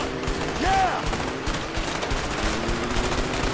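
Machine-gun fire in the video game A Way Out, a dense, continuous rattle of rapid shots under a brief tonal game effect, with a voice talking over it.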